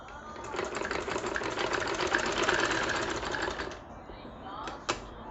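A sewing machine stitches the back seam of a ladies' trouser, a fast steady mechanical whirr lasting several seconds close by, then stopping, with a couple of small clicks afterwards.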